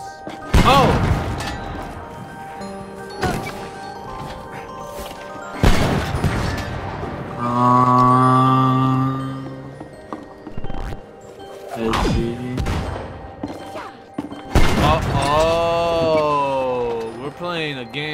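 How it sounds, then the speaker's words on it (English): In the video game It Takes Two, a cannon fires with several heavy booms and thuds spread across the stretch, alternating with people talking and an excited voice in between. "I think this cannon and I will get along well."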